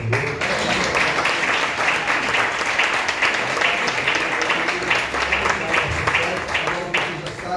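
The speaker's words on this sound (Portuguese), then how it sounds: "Eu não sei que você aplaude o seu Senhor." Congregation at a Brazilian evangelic church anniversary service applauding loudly and steadily throughout, a dense wash of clapping with some voices mixed in.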